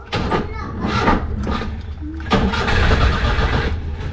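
A Daihatsu Hijet 1000 car engine is started up, rising into a steady idle rumble after a brief crank, with a couple of mechanical knocks along the way and a person talking over it.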